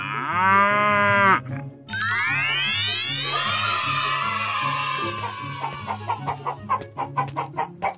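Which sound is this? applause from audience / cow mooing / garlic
cow mooing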